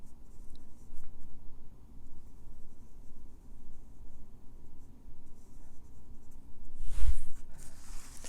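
A size 6 watercolour brush moves over paper taped to a board, giving faint, steady brushing and scratching strokes close by. A brief, louder rustle comes near the end.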